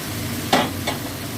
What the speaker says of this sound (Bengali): চিনি দিয়ে একটু নেড়ে এই আলু ভাজাগুলো দিয়ে দেবো